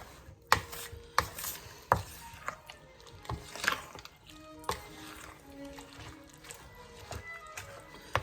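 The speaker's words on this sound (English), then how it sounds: "let's give this all a good stir" A spoon stirs a wet baked-oatmeal mixture of oats and homemade vanilla in a bowl, giving repeated soft scraping knocks and thick squishy sounds at close range, with no talking.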